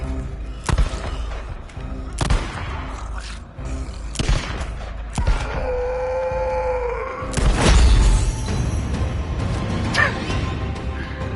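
Gunfire and impacts in the video game Days Gone Remastered, loud shots and heavy thuds bursting irregularly over a dense game soundscape, with a sustained tonal drone midway and a rumbling crash near the end.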